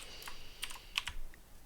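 A computer keyboard is typed on in a few quick, sharp keystrokes, close and clear over a quiet background, with no voices.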